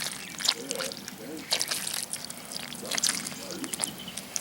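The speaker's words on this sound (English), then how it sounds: "Let me add some more water." Warm water trickles and splashes onto Jiffy peat seed pellets in a plastic greenhouse tray, quiet intermittent pours and drips with soft sloshing between them.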